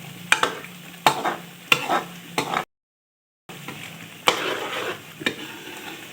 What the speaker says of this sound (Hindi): अपने जो फ्रोज़न कोफ्ते थे वो हम इसमें ऐड कर देंगे